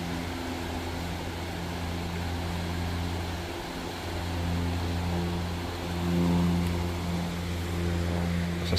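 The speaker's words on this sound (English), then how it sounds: "A small airplane" A small propeller plane drones overhead at a distance above McConnells Mill State Park, Portersville, Pennsylvania, a faint steady hum that swells slightly toward the end.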